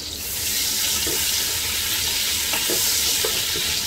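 Garlic and ginger frying in oil in a pan on a stove while cooking palak aloo, giving a steady, loud, close hiss and sizzle throughout, with a few faint clinks of stirring and no voices.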